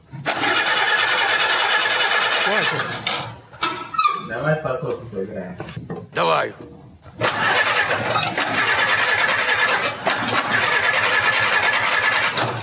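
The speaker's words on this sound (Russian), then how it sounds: "пытаемся сейчас запустить двигатель" An old 1942 Jeep Willys engine cranks and whines with squealing, stalls briefly amid a short spoken exchange, then cranks again loudly and steadily.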